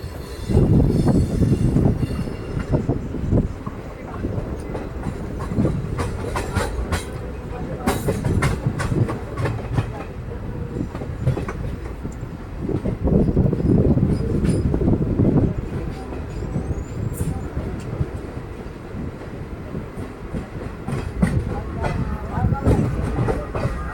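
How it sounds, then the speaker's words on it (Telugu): Sai Nagar Shirdi Express rolling slowly outside Warangal, heard from on board as a steady, loud rumble of wheels and carriage noise with scattered clanks and rattles, and voices faintly in the background. "మన ట్రైన్ వచ్చేసి వరంగల్ అవుటర్లో అయితే ఉంది"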